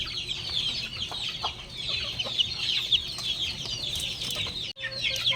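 Chicks, including White Kelso chicks, and chickens in a poultry pen: dense, continuous high-pitched peeping from many birds close by, with a few lower clucks and a brief gap near the end.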